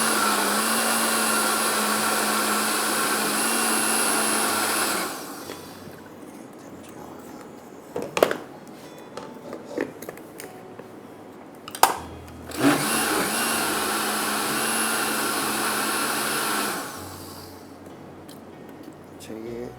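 An electric grinder blends green coconut chutney with a loud, steady whirring drone that stops briefly, leaving a few clatters and handling noises, then starts up again before a final stop.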